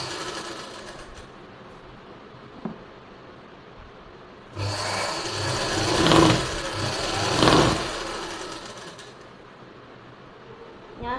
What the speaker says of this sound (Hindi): और यहाँ से हम सिलाई लगा लेंगे